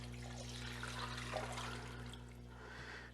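Cold water pours steadily into a pot holding three pounds of potatoes, a soft continuous splashing over a low electrical hum, with no talking.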